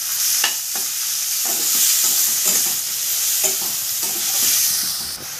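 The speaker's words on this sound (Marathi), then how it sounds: "त्याच्यामध्ये कांदा टोमॅटो परतून घ्यायचे आपल्याला। कांदा आपण भाजून घेऊया चांगला" Onion sizzles in hot oil in a pan for stuffed bitter gourd (bharlela karela). The steady frying hiss sits close and loud, with a spoon stirring against the pan in repeated scraping strokes.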